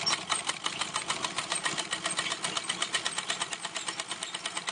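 A treadle sewing machine stitches a buttonhole with a fast, steady mechanical clatter, an even run of rapid ticking needle strokes close to the ear without pause.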